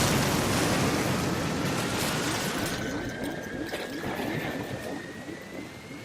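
A plane blowing up in a crash in the survival game Stranded Deep: a loud, dense roaring blast that fills the start and slowly thins into a rushing rumble with a faint rising whine.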